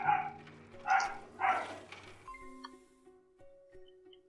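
Dog barks in the hospital management game Project Hospital, a few sharp yips in quick succession near the start, then fading into quiet ambient tones and soft beeps.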